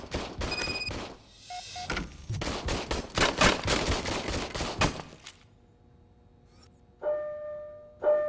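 Bursts of rapid gunfire from a police service weapon during a calibration check in Robocop: Rogue City, loud volleys for several seconds, then quieter game ambience and electronic tones.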